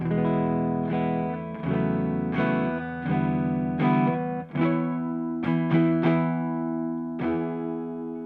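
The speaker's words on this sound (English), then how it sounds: "Neck pickup, clean sound." A clean electric guitar on the neck pickup, drive off, plays a warm, rounded melodic phrase of plucked notes and chords, clear and close, with no talking.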